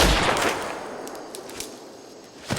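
Gunfire from a Hong Kong mafia film shootout over gold, with a burst of shots opening the passage, fading into a noisy wash and a few faint later cracks, then a louder volley near the end; no talking.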